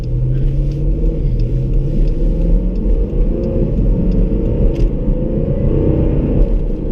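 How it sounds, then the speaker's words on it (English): A high-performance car's engine rumbles low and loud from inside the cabin as it pulls out into traffic. Its pitch rises and shifts in a steady, throaty drone with slight revving, and no voices are heard. "I know this car sounds kind of crazy"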